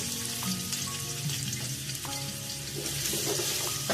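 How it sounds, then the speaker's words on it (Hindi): Onions fry in a cup of oil for Punjabi chicken pulao with a continuous close sizzle, marked by a few crackles and stirring scrapes, and no talking. "ये प्याज डाल देंगे सारे इसमें।"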